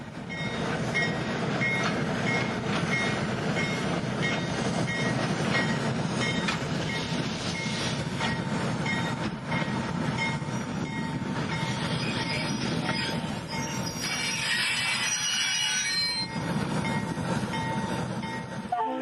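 An excursion train on the WVRR line rolls steadily past, a continuous loud rumble of wheels and cars with metallic squealing midway and brief tonal whines. It is close and sustained, with no talk.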